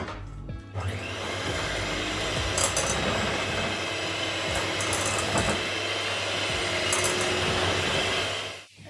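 An electric mixer whirs through chocolate muffin batter with butter, a loud steady motorized drone starting after a brief knock, with a few rattling scrapes against the bowl before it cuts off at the end.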